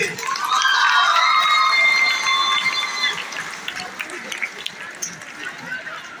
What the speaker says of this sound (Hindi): आप भी तालियां बजानी है।